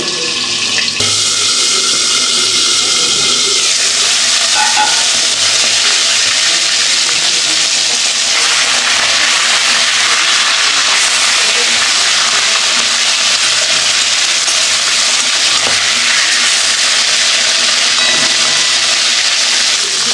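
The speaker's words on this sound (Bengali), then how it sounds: "আমি একটু ঢেকে ঢেকে ভাজবো, নাহলে ছিটে আসছে।" Boal fish frying under a lid in a covered pan, a dense, loud, continuous hiss of sizzling oil with occasional sharper pops and splatters, close by and steady throughout.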